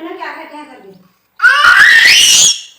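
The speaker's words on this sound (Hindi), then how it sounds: "ये देखो इतनी जोर से चिल्लाता है" A toddler lets out a loud, piercing, rising scream lasting about a second, close by, right after a short stretch of someone talking.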